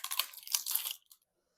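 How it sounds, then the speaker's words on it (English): Parchment paper is peeled off a loaf of bread baked in a crockpot, giving close crinkling and crackling for about a second before falling silent. "And we'll peel the paper off it."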